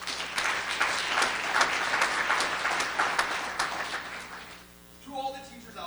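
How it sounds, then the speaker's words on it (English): Audience applause for educators at a Stark Tank event: dense, steady clapping for about four and a half seconds, then fading quickly as a quieter tonal sound takes over. "One more big round of applause."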